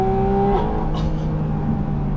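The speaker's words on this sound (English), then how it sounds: "That intake noise, it's just the best." A Porsche 718 Spyder RS engine revs loudly and holds a steady drone, intake noise prominent, a rising whine dropping away partway through, close and constant with no voices.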